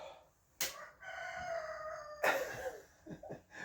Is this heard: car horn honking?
no